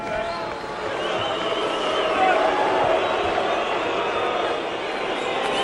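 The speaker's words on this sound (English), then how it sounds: "Somewhat uneventful, drawing boos from the crowd." A boxing arena crowd boos through the final seconds of the opening round of the Hector Camacho Jr. vs Philip Holiday fight, a loud, sustained, swelling mass of voices filling the hall.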